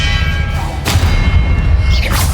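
The Expelliarmus spell fires in Hogwarts Legacy as a sharp booming burst with a thudding impact, followed by a whooshing swell, loud and close over continuous game ambience.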